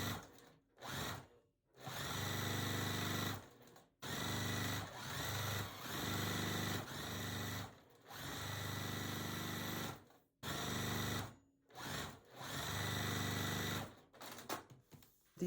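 A sewing machine stitches quilt block pieces together in several loud, close bursts of steady whirring, each lasting a few seconds and separated by short pauses, with no voices.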